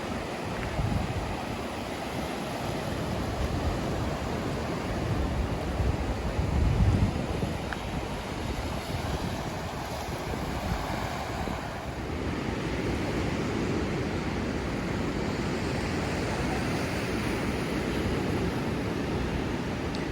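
Ocean surf at Rockaway Beach in New York City, a continuous broad wash of breaking waves with wind noise, swelling slightly midway and staying steady and fairly loud, no voices heard.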